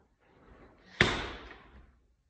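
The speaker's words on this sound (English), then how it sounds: "Close the door." A door being shut indoors gives a single muffled thump in the middle of the clip, faint and close, with a short decay and no talk over it.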